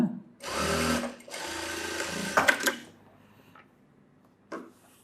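Sewing machine stitching fabric for a front cup shape in tailoring, running in two loud bursts of about a second each near the start, then a few short ticks and clicks before quiet, with one brief knock near the end.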